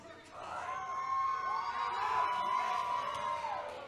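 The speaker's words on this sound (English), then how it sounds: "I don't know why you're cheering." A crowd at a live pro wrestling show cheers and whoops continuously, loud and fairly near, with yells rising and falling over about four seconds.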